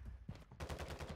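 Pistol shots in a video game shooter, a quick run of close, sharp repeated cracks packed into about a second.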